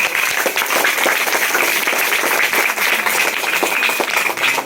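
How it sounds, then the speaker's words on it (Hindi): Loud, dense applause from a crowd of schoolchildren and staff at a school children's parliament election, steady and continuous throughout with no break. "जोरदार तालियां अर्पित के लिए"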